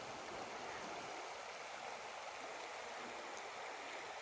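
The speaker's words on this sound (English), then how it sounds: "Lovely sound of burbling water." River water burbles steadily beside a forest track through Tasmanian west-coast rainforest, a continuous close wash of flowing water with no voices.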